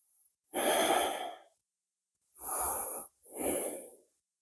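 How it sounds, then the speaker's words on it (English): Three deep, slow breaths during a seated yoga twist, one long inhale-exhale followed by two shorter ones, close and breathy, separated by near silence. "Take a deep breath in."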